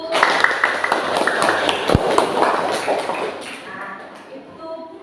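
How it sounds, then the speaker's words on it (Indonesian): Schoolchildren in a classroom clap their hands together in a quick burst of mixed claps, loud and close, that tapers off, with voices chattering underneath. "tepuk tangan dulu"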